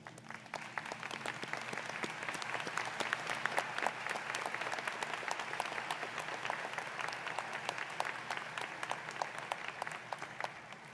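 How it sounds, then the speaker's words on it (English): Graduates applauding their faculty at a university commencement, a sustained, dense wall of clapping from a large crowd that holds steady for the whole stretch, with no speech over it. "so the graduates can applaud the faculty and you all can thank them"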